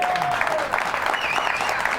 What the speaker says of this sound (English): No, you can clap if you want to.